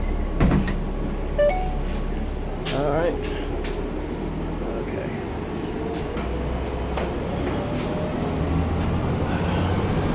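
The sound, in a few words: riding on a bus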